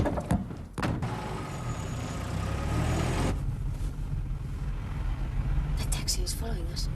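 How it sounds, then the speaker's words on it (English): A taxi car drives along, its engine a steady low rumble with a few door-like thunks at the start, while people talk over the road noise. "That taxi is following us."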